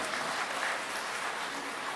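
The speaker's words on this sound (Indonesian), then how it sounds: "tepuk tangan untuk para kantah kita ini" Audience applause for the heads of the Central Java land offices, a brief, even wash of clapping from a gathered crowd, moderately loud and continuous with no voices over it.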